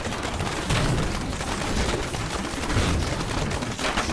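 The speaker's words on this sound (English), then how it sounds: "Waiting for the damn explosions to go away." Explosions in Diablo 3, on a Demon Hunter character: a dense, continuous barrage of loud booms and crackling blasts layered without pause, sounding like rapid gunfire.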